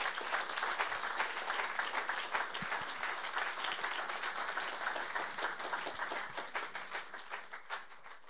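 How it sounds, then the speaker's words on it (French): A church congregation at an online worship service applauds loudly, the dense sustained clapping of a large crowd filling the room before tapering slightly at the end. "Est-ce qu'on peut acclamer ensemble le Seigneur? Acclame-le très fort, acclame-le très fort."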